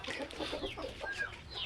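A large flock of chickens clucking steadily at moderate distance, with overlapping cackles and short calls throughout and a busy farmyard background.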